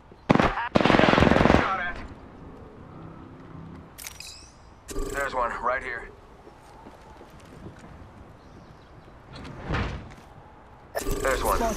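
Bursts of automatic gunfire from the battle royale shooter Apex Legends crackle in short volleys, a loud burst near the start and more scattered shots later, amid game effects and character voice lines.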